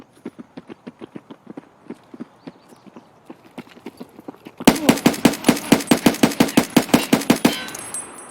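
Rapid automatic gunfire in Escape From Tarkov with an AKMN rifle, first as a steady run of quieter, more distant shots, then jumping to a loud, close burst of fast rounds before trailing off.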